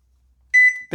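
A short, clear electronic beep from a circuit board sounds once after near silence, followed by a brief burst of broadband noise.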